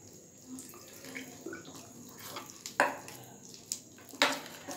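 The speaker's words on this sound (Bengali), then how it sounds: "এখন আমি প্রয়োজন মতো জল দিয়ে দিচ্ছি। আমি একটা ব্যাটার তৈরি করে নেব।" Water poured into a bowl of egg and flour batter for a cake made with dates and cashews, giving soft intermittent splashes and a few sharper clinks of stirring at close range with no talk.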